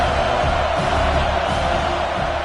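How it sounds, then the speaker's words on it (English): A stadium crowd at a football game roars in a dense, continuous wash of cheering and shouting, loud and unbroken throughout, without a distinct voice standing out. "This crowd knows when to bring it."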